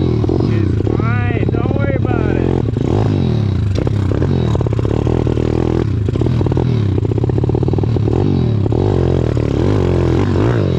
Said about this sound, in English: Bike not running very well.